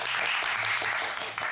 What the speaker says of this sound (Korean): 일단 박수 한번 치고 가겠습니다